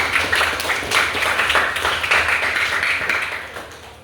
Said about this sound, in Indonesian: Boleh kasih aplaus dulu untuk nomor 4